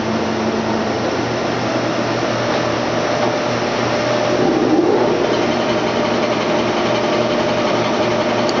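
A Blanchard 26HD-48 vertical spindle rotary surface grinder running in its slowest gear, a steady loud mechanical hum and whine holding constant without a break.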